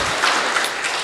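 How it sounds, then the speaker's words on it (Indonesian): An audience at a talk show with young Nahdlatul Ulama members gives a short burst of dense, steady clapping, heard fairly loud and close throughout the brief moment. "tepuk tangan"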